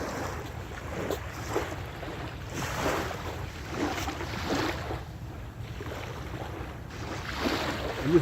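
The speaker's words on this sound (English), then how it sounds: "nice sound from the sea here" Cold Pacific Ocean waves in the Bay Area wash in soft, repeating surges of hiss and rumble, each swell rising and fading at a moderate distance amid light wind.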